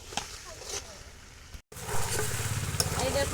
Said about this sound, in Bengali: একটু ঝোল দিয়ে দেবো